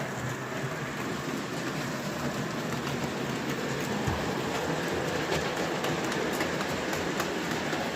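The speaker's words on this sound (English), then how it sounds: "Such a smooth little locomotive." A 2MT model steam locomotive runs smoothly on a layout, making a steady, close rolling rumble with faint rhythmic rail clicks throughout, heard alone without talk.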